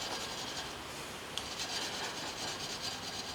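A homemade metal scraper is rubbed over a red DMT diamond sharpening stone, giving a steady, close raspy scrubbing with even strokes throughout and one brief sharp tick partway through.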